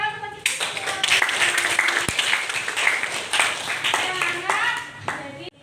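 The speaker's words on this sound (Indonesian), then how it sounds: "tepuk tangan untuk kita" Students in a classroom break into lively applause, many hands clapping together for several seconds, with voices calling out over the clapping before it fades.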